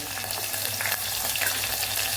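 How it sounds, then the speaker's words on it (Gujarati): Green chillies sizzling in hot oil with cumin seeds and curry leaves, a loud, close, crackling hiss with small pops scattered through it. "અહીંયા લીલા મરચાં પણ ઉમેરી દઈશું"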